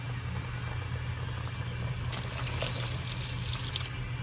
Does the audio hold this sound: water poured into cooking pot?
yes